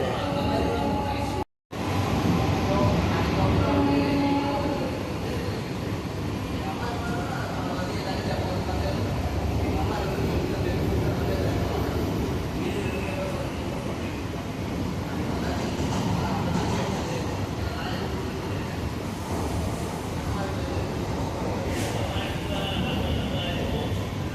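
A Tambaram–Chengalpattu AC suburban local train runs and shakes, giving a loud, steady rumble and rattle that fills the whole stretch, with brief voices now and then.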